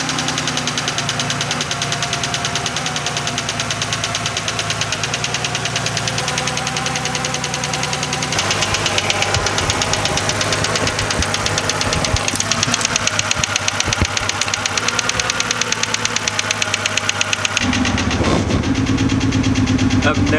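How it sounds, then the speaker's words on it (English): A BMW E90 engine runs rough after valve cover work, idling loudly with an uneven, knocking chatter that shifts in tone partway through, up close throughout. "You guys only heard the bad side of the engine."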